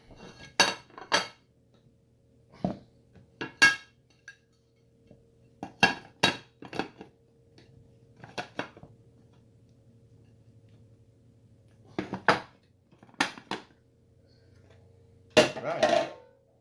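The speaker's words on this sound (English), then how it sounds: "we're gonna go ahead and we're gonna flip our cake out" Lemon pound cake being flipped out of its pan: sparse metallic clanks and taps of the pan against a surface, a dozen or so separate knocks with quiet gaps in a kitchen, no talk.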